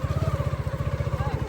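A motorbike engine chugs steadily with a fast, even pulse on a muddy road after rain, close and fairly loud, with faint background noise and no clear voices.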